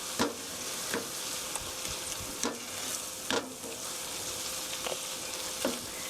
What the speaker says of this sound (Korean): 두반장이 볶여야지 안 그러면 떫은 맛이 나니까요.